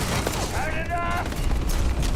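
Rapid gunfire from a firefight in the Starfield video game, a dense continuous burst of shots with game sound effects and a voice speaking over it.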